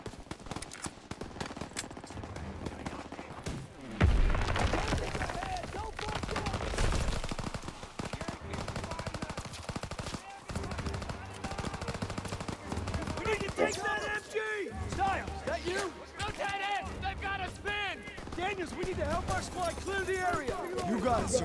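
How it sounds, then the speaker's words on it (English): Gunfire in the World War II shooter Call of Duty: WWII, bursts of rapid shots and explosions running steadily under loud in-game voices and chatter, dense and continuous. "Gunfire! We must be near our guys."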